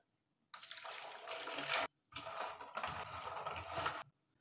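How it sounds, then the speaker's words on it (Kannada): Ridge gourds washed under running tap water in a sink, two bursts of splashing and gushing water separated by a brief pause, close and fairly loud, with no voices. "ಒಂದ್ಸರಿ ನೀರು ಹಾಕೊಂಡು ತೊಳ್ಕೊಳ್ಳಿ।"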